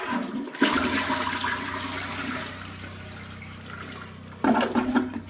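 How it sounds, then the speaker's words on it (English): Water rushing loudly as a toilet tank refills after a flush in an off-grid, solar-powered cabin, with a pump running underneath. The noise holds steady at close range, then swells again near the end, and no one speaks. "You hear the pump running as it refills the toilet"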